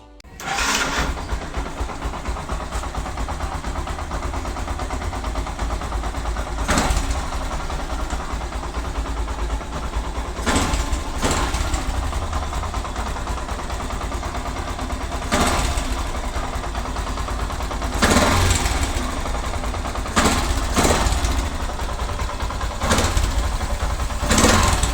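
A Yamaha YTX 125 motorcycle engine with a newly replaced ignition coil and spark plug starts and runs steadily for a long stretch, loud and close, with a constant throbbing idle and occasional brief blips or knocks.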